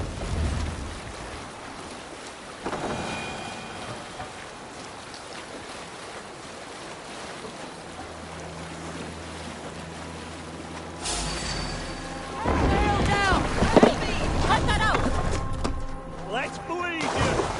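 Wind and rushing water around a Viking longship under sail in Assassin's Creed Valhalla make a steady broad wash, swelling louder near the end as voices shout over it.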